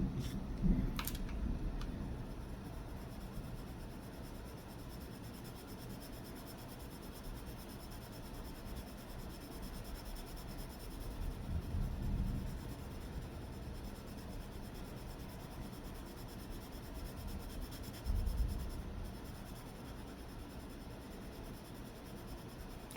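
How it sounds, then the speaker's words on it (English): A Caran d'Ache Pablo colored pencil scratches softly across paper in continuous close strokes, with a few slightly louder passes now and then in an otherwise quiet room. "they are a little bit of a noisier pencil if you are sound sensitive"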